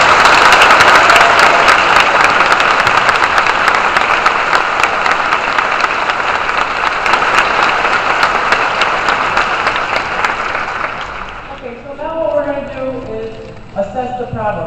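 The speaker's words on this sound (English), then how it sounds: "I want to give them a round of applause" An audience applauds police officers at a community meeting, dense sustained clapping filling the room for about eleven seconds before fading into scattered claps and murmuring voices.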